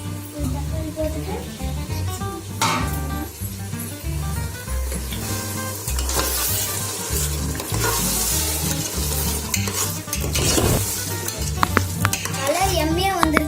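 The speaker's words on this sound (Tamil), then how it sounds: "தக்காளிலாம் வதங்கிடுச்சு." Chopped tomatoes sizzle in a pan and get stirred while children cook chicken biryani at home; a steady frying hiss runs throughout with scraping stirs, over a musical background.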